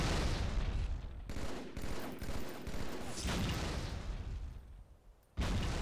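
Dense gunfire and grenade blasts from a Halo multiplayer match, a continuous loud barrage of shots and bursts with short gaps, cutting out near the end before another burst.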